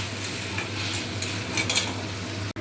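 A sizzling okra curry stirred in a pan as water goes in, a loud continuous hissing fry with light scraping and one sharp click near the end.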